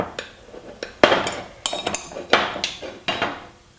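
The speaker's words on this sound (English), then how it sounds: "now take a 9/16 wrench and we're going to tighten that down snug" Sharp metallic clinks and taps as bolts are tightened with a 9/16 wrench while assembling a Sync Notcher 180 Jr. tubing notcher, a dozen or so irregular close-up strikes and rattles with no talking.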